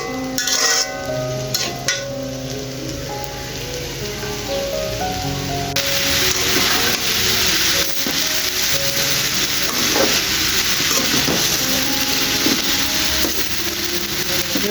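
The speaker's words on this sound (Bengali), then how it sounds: "বিকেলের নাস্তার জন্য নুডলস রান্না করছি" Noodles with carrots frying in a pan give a dense, continuous sizzle like steady rain, close and loud, brightening partway through and staying constant, with faint stirring scrapes underneath.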